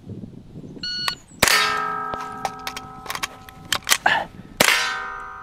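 Sharp rifle shots from a carbon-wrapped barrel crack at a shooting range, two loud reports with ringing steel target clangs and metallic pings scattered between them.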